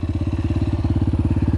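Small RC-U motorcycle engine running steadily close up, a loud, rapid, even put-put pulse throughout with no other sounds.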